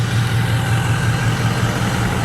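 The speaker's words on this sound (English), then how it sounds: "I just love the sound of the exhaust on this one." A 2004 Ford F350 Harley-Davidson Edition pickup truck idles with a steady, deep exhaust burble, loud and close, with no voices.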